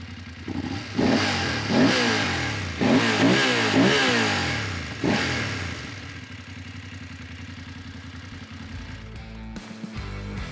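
BMW F 850 GS adventure motorcycle engine blipped through several sharp revs during a sound test, each rising and falling, then settling into a steady close idle with a brief throttle touch at the end.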